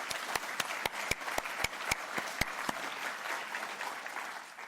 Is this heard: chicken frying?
no